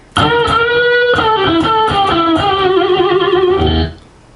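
A fast electric guitar lick with a distorted, sustained tone, notes bending and sliding in a quick run before cutting off.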